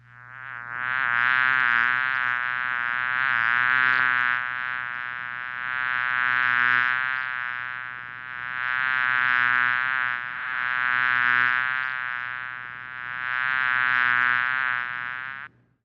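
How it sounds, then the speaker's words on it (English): A dense, steady honeybee buzz drones close up as bees are installed in hives, swelling and easing in slow waves with a constant low hum underneath. "we're going to now install the bees in the hives"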